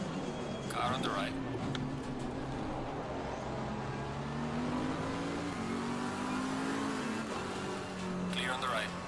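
Race cars in Assetto Corsa Competizione at Kyalami, a steady engine drone rising and falling as another car draws alongside and passes close by, with brief tire noise near the start and end, under a continuous engine bed.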